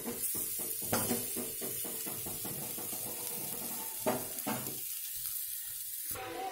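Khoshla fish fries in a pan over medium heat. A quiet sizzle carries a quick run of rhythmic crackles and taps, then drops to a hush before a short final burst. No voices are heard.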